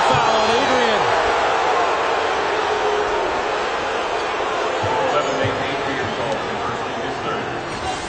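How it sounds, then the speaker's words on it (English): Steady roar of a college basketball arena crowd, Baylor Bears against West Virginia, reacting to a blocking foul call, a dense sustained hubbub with scattered thumps, close and loud throughout, with a voice talking over it. "Well, the crowd doesn't like it"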